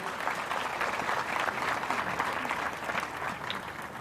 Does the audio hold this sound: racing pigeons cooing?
no